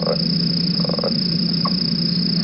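Recorded frog calls from a Florida swamp at cooler temperature: a few brief, spaced calls over a steady high insect drone and background hiss.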